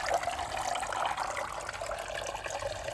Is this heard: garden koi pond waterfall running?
yes